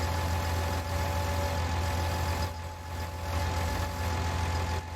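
A tractor engine idles while carrying a Charger car, a loud, steady low rumble with a slight dip in the middle and no voices.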